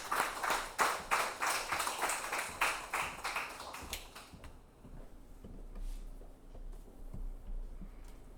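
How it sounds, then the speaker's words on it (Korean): A church congregation claps at a Wednesday worship service, rapid rhythmic clapping that is fairly loud at first and then fades out into quiet room noise. "따뜻한 박수로 모시겠습니다."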